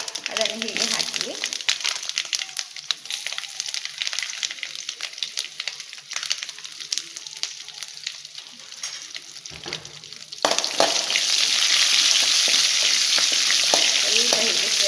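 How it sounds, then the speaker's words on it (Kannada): Garlic and crushed hog plum frying in a pan for a bittergourd curry, a steady hiss and crackle that swells noticeably louder partway through, with faint stirring, close and continuous. "ಸ್ವಲ್ಪ ಹೀಗೆ ಫ್ರೈ ಮಾಡುವ"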